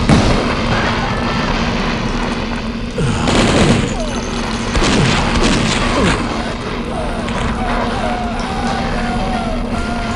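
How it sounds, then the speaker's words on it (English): Rapid bursts of napalm fire from the weapon in the DOS shooter Blood, with booming blasts and crackling explosions at a bridge over steady loud game ambience and music, several shots clustered around the middle. "we'll just napalm these guys from across the bridge."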